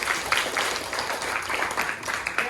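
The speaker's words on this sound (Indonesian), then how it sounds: "ayo beri tepuk tangan dulu" A classroom group applauds after a student's answer in a math lesson: dense, steady clapping from many hands at moderate distance, continuous for a couple of seconds with no talking over it.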